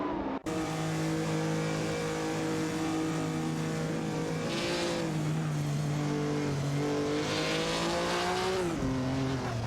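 Race car engines whine and rev continuously in a video game race, with several pitch shifts as cars accelerate and change gear, loud and close, no talk.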